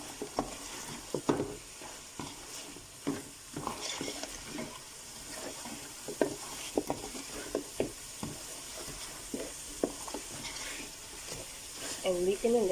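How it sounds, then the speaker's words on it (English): Mutton curry meat being stirred in a pot, a spoon scraping and turning the pieces in a steady, uneven rhythm over a continuous close sizzle of frying in oil, with no talk. "give this a good stir"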